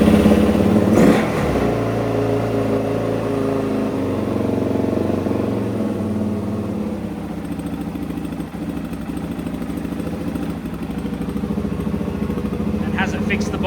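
A Suzuki DRZ400 motorcycle engine runs after a carburetor rebuild, with a fuel tank refitted and a bogging fault, producing a steady close rumble with slight revs under a brief spoken remark.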